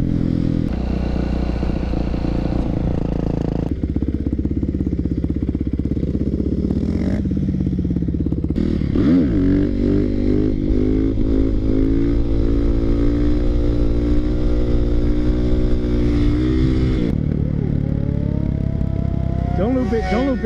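Yamaha WR450 dirt bike being ridden, its engine droning loud and close throughout with revving pitch changes and wind rush, with a rider's voice over it.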